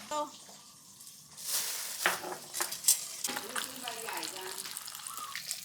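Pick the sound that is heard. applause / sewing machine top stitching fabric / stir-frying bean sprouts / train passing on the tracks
stir-frying bean sprouts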